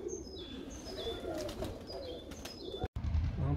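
Budapest tumbler pigeons cooing in a loft: repeated soft, low coos close by, with higher bird chirps and general outdoor noise around them.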